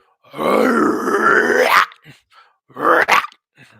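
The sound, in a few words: vocal growl imitation, rough singing technique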